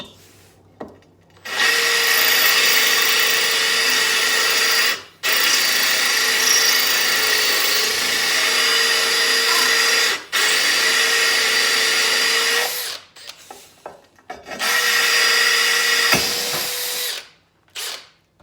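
A power drill bores through a porcelain tile in several loud, steady bursts of whining, grinding drilling, each a few seconds long, separated by short pauses.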